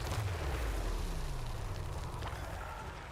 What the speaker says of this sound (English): The cannonball shot heard round the world, goes up over the Sorcerer Prophet, sails through the sky.